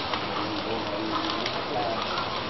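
Heavy rain pours in a steady, dense hiss with no pauses, loud and close throughout.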